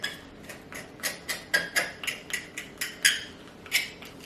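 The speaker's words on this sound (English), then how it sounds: "So just using a knife, scrape down the bone," A knife scrapes down a chicken thigh bone during deboning, making about a dozen short, evenly spaced scratchy strokes at close range.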